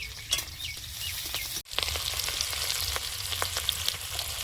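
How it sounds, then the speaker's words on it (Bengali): Malabar spinach leaves frying in hot oil, an even close crackle and hiss with scattered pops, briefly cut by a sudden dropout, with faint bird chirps in the background. "পুঁই শাকের পাতাটা ভেজে নেব।"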